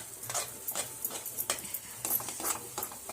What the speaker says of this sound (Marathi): एका हाताने बेसन टाकत दुसऱ्या हाताने घटलत हे पीठ मिक्स करून घ्यायचं आहे